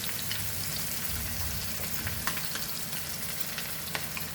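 Ground masala sizzles and fries in a pan with softened tomatoes for a mutton trotters curry, a steady crackling hiss with small pops and stirring throughout.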